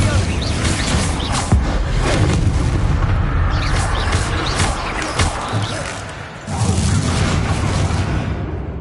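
Explosive spells burst in a Harry Potter wizard video game, a series of heavy booms and crashing impacts over a dense game soundscape, with a brief lull before more blasts.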